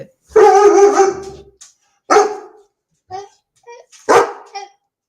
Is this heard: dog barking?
yes